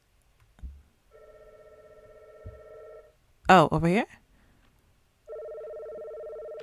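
A phone rings in the video game Before I Forget, with two long electronic ring bursts separated by a pause, while a person speaks briefly between them.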